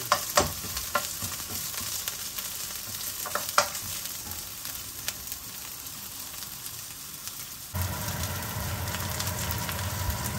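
Bacon fries with asparagus in a hot pan, a close crackling sizzle with scattered pops and stirring scrapes that grows fuller and louder near the end.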